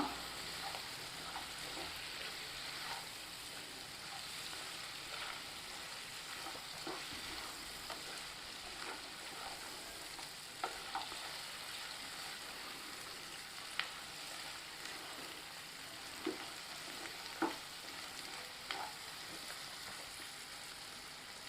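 Chicken chukka frying in a pan while being stirred, with a soft, steady sizzle and occasional scrapes of the spoon, quiet and without voices.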